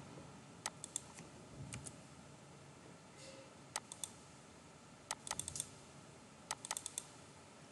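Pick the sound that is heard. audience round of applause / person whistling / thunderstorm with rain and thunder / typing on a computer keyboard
typing on a computer keyboard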